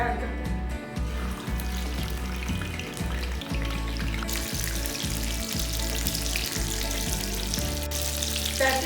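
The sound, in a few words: patties frying in hot oil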